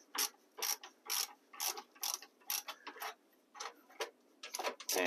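A ratchet loosens a nut on the battery hold-down bracket of a 2003–2011 Honda Element, making quiet, close pawl clicks in short uneven bursts with small pauses.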